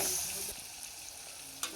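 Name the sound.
onions frying in a pan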